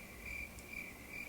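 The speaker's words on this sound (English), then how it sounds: "crickets." Cricket chirping sound effect, a thin high trill repeating in a steady pulse over a quiet background.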